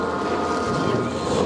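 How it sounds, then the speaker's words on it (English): Ford Mustang NASCAR race cars firing up on the grid at a EuroNASCAR round in the Czech Republic, a loud continuous engine roar with no pauses. "Engines are fired into life"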